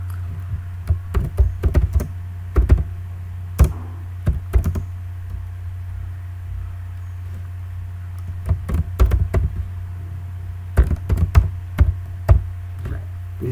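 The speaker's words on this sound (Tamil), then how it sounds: "இப்போ போய்ட்டு டைப் பண்ணுறேன்." Keys clatter on a computer keyboard in irregular bursts of quick taps separated by short pauses, close up over a steady low electrical hum.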